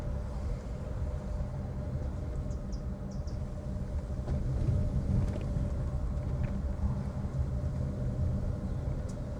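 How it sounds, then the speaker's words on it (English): A steady low engine hum and road rumble from inside a moving Jetour Dashing Prime SUV, constant and unbroken with no voices. "it helps on the small roads, but you can hear the engine"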